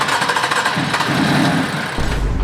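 A BMW F80 M3 engine cranks and fires up close by, a loud, rough starter whirr building into a deep roaring idle that swells and steadies with no talk.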